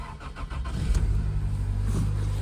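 An old rusty Toyota Corolla engine starts and settles into a steady warm-up idle, loud and close, with a low rumbling drone after a brief cranking.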